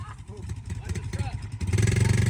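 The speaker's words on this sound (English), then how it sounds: "All right, my boy, rev her up." A four-wheeler ATV engine thrums unevenly under a voice, then revs up into a louder, steady buzzing roar at close range.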